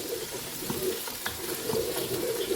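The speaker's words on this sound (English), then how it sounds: "let me use wooden spoon. So you stir your onions" A wooden spoon stirs onions in a pot, giving soft scraping and a low sizzle mixed with wet shuffling. The sound is close and continuous, with no voices.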